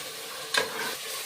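Kasuri methi and mint frying in a pan, a steady close sizzle with one quick scraping stir stroke in the middle, heard alone without voices.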